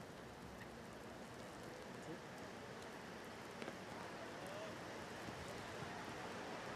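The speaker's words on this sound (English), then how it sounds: "It's heavy rain coming on now." Steady heavy rain hisses evenly over a cricket ground at a Leewards versus Barbados one-day match, a faint continuous wash with a few scattered drop ticks.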